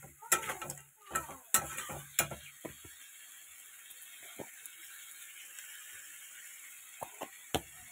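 Curry being stirred and fried in a pan, a cluster of loud spatula scrapes and clanks at the start, then a low sizzle with a few scattered taps, close by, with no talking.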